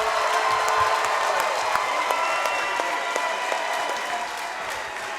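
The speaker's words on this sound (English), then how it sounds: "Let's get a round of applause for these ladies." Crowd at a women's 115-pound fight event in Spartanburg claps continuously with scattered cheers, loud and close at first, then easing slightly toward the end.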